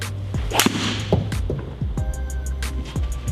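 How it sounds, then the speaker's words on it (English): A sharp whoosh and crisp strike of a fairway wood hitting a golf ball, followed by faint outdoor ambience and a few more distant swings. "That's a good golf shot."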